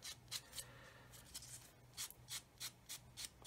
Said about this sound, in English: it's a soft Flory sanding sponge